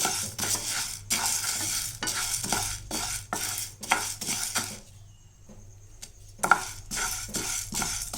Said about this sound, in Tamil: இப்போ இதையும் நல்லா நம்ம தீ குறைவாக வச்சு வறுத்துடலாம்